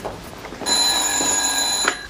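An old-fashioned telephone bell rings in an office, a loud, continuous metallic trill that starts abruptly and persists steadily over quiet background noise.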